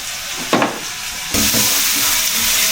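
Onion with ginger and garlic paste frying in a pan for mutton pulao, a loud steady hiss and sizzle with a couple of utensil knocks and a swell in intensity partway through.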